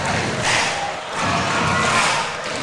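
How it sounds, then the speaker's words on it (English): Excited crowd cheering and roaring in the stands at a high school volleyball state championship match, a steady, loud wash of voices that swells and dips and sounds like a large gym full of fans. "You can hear the crowd in the background."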